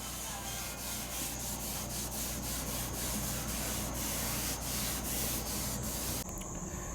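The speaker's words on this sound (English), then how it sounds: "rubbing it in until she likes the look of it" A rag rubs wood stain into a wooden countertop in steady back-and-forth strokes, a close, soft scrubbing texture that runs continuously and then stops near the end.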